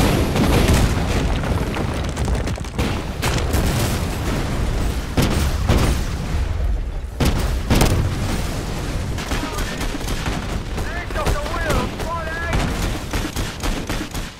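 Battle sounds from the Command & Conquer strategy game fill the whole stretch: loud explosions and booms over rattling bursts of gunfire and machine-gun fire, dense and continuous with no quiet gaps.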